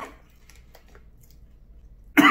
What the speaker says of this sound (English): I'm not coughing because it's hot.